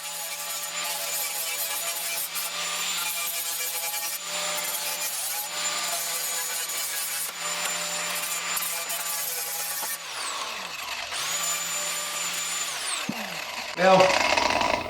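A flap wheel on an angle grinder whines steadily as it grinds down a folded metal edge outdoors in a garden, in long continuous passes with brief dips in pitch and a few short pauses.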